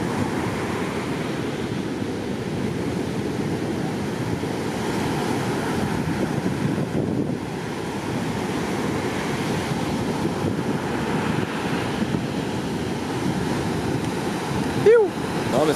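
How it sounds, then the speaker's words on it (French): Ocean surf at the Capbreton break in France, with waves around 1.2 metres, rolls as a continuous broad roar, steady and fairly near, with wind buffeting the microphone throughout. "Il y a quelques vagues, hein."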